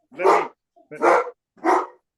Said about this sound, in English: Let me walk this dog because he about to go crazy.